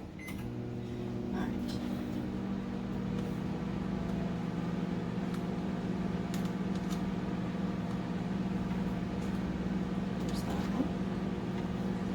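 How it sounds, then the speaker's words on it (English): A microwave oven hums steadily with a low, even drone while reheating soap, with a few faint clicks and clatters in the background. "I'm going to go ahead and pop this back into the microwave"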